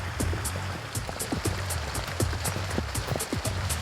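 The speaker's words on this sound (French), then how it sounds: "La pluie battante crée des coulées d'eau qui ralentissent leur progression." Pouring rain on Réunion island beats down steadily on surfaces, with dense patter and individual drops tapping close by in a fairly regular rhythm, no voices.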